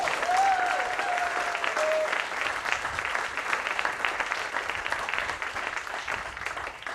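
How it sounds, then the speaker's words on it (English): An audience at a Cape Pond Ice restructuring announcement breaks into a steady round of applause, many hands clapping in a dense, even wash at moderate volume, with a brief high whistle near the start. "Go ahead, give him a round of applause."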